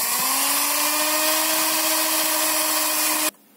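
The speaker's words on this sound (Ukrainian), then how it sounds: "Обов'язково треба збивати." An electric hand mixer whisks pie batter with a pinch of salt, giving a steady loud whir with a constant pitch that runs for about three seconds and then cuts off abruptly.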